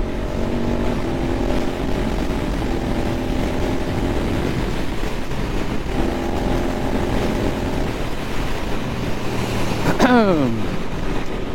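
A Suzuki GSX-8S A2 motorcycle being ridden on the road, its engine droning steadily under loud wind rush, with a rising whine near the end as it revs up through the gears.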